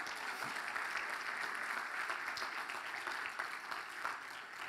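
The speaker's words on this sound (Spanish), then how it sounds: "Dale un fuerte aplauso a Jesús." Dense, sustained applause from a large church conference audience, an even wash of many hands clapping at steady loudness throughout with no pauses.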